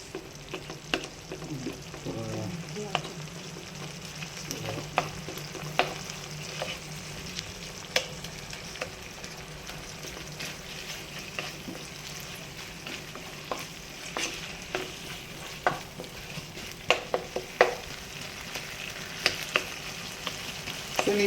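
Sardines fry in a pan with a steady sizzle for some time, while a utensil stirs and breaks up the fish, making scattered scrapes and taps up close.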